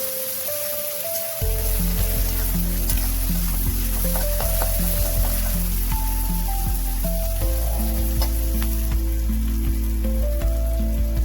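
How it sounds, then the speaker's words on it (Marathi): Chopped tomato with spices sautéing in a hot pan for a Maharashtrian sprouted matki usal, a steady loud sizzle throughout with a brief quieter start, heard close with no talk. "ह्या सर्व गोष्टी व्यवस्थित परतून घ्यायच्या आहेत आपल्याला."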